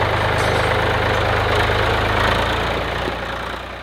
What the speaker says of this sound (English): Do you need me to move the tractor out of your way?